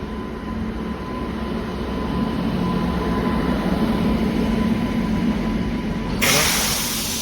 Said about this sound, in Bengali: দেখতে পাচ্ছ ট্রেনটা আসতেছে